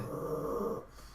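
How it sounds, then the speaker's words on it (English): A dog growls low and rumbling for under a second close by, then drops off into quiet breathing. "your dog's noise. Yeah, that's my dog."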